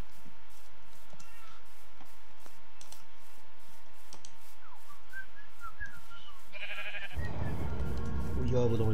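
A sheep in the video game Minecraft bleats among game sounds, with regular soft clicking and a steady tone underneath, and a louder burst of mixed game noise near the end.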